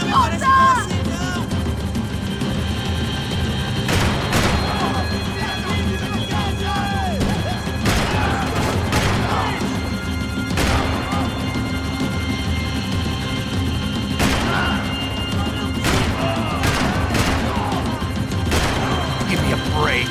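Gunfire and impacts in the video game Max Payne 3 during a night club mission: sharp, scattered shots and crashes over a steady rumbling game soundscape, with occasional voices.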